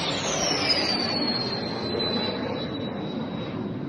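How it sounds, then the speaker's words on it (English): A missile flies through the air in combat footage from the Russia-Ukraine war, giving a steady, loud roaring rush with a high whine that slowly falls in pitch as it passes, continuous for several seconds with no talk. "That's not a jet, that's a missile."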